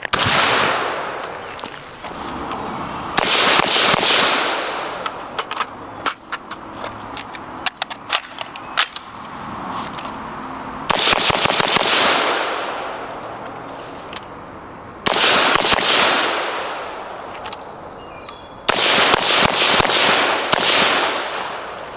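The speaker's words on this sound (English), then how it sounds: "shooting relatively fast like that with the HUXWRX Flow can is noticeably," A 5.56 rifle fitted with a HUXWRX Flow suppressor fires in rapid strings, with bursts of many sharp muffled cracks separated by pauses, loud and close, with ringing and scattered single shots between strings.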